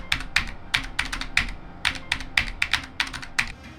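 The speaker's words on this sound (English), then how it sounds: "I'm not a fan of the how loud the keyboard is" Fast, clicky mechanical keyboard typing on a Razer Huntsman Mini, loud and close, with irregular bursts of sharp keystrokes and brief pauses between them.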